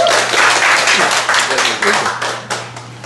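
Applause at a Democratic Party members' speech contest, a burst of crowd clapping with a voice talking over it, fading toward the end.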